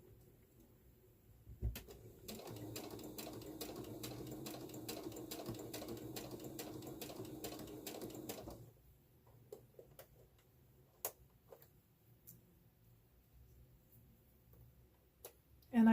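A sewing machine stitching a seam on a fabric phone bag runs in a steady rapid ticking burst for about six seconds, fairly quiet and close, then stops, leaving a few faint clicks and handling taps.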